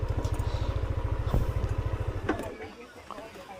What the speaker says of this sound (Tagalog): Iwanan ng motor na nakaandar